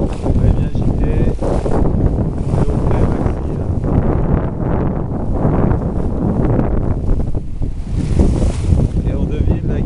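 Strong wind of about fifteen knots roars across a heeling sailboat at sea, a loud, unbroken rush of gusts and water noise buffeting the microphone for the whole stretch.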